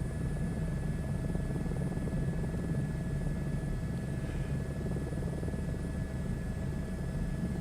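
Helicopter in Microsoft Flight Simulator 2024, a steady close rotor and engine drone with a heavy low rumble, holding constant and alone throughout.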